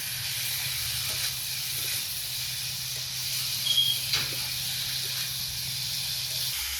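A steady, soft sizzle hisses throughout, an even frying sound of spices and vegetables in a pan, with a faint low hum underneath and no talking.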